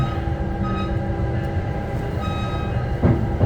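Exo commuter train rolling into a station on the line toward Montreal, a steady low rumble and hum of the cars with a louder clunk near the end.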